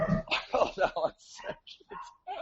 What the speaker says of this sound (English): Sorry for the crazy dogs.